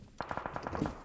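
Burst of rapid gunfire from a video game shooting match, a quick run of evenly spaced shots lasting about a second, fairly close and moderately loud with no talking over it.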